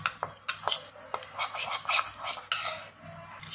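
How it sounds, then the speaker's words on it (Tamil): A spoon stirring a face paste mixed with rose water in a small bowl, a series of quick scraping taps and clinks in an uneven rhythm, close and moderately loud, no voices. "இப்போது நம்ம ரோஸ் வாட்டர் கலந்து இதை மிக்ஸ் பண்ணிக்கணும்"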